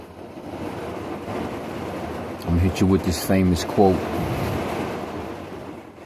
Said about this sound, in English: You hear it pouring down.